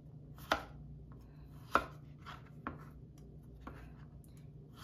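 A knife chops a boiled vegetable stem into cubes on a cutting board, giving sharp, separate thuds at an irregular slow pace against a quiet kitchen background.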